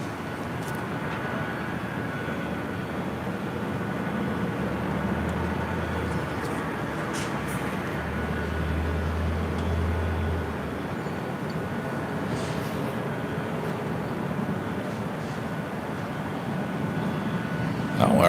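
A United Boeing Dreamliner airliner at LAX airport, a steady distant engine roar rumbling continuously with even loudness throughout.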